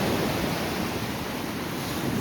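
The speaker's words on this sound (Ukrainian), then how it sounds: "Сильні хвилі заходять прямо на пісок." Strong waves on the Black Sea roll onto a sandy beach at Chornomorsk in the evening, a loud, continuous roar of surf mixed with wind buffeting the microphone.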